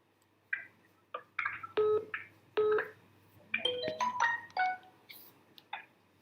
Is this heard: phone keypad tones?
yes